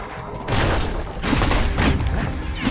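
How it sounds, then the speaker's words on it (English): A scrap musket fires in Bastion, delivering booming shotgun-style blasts in quick succession, loud, close and heavy. "Shotgun blast."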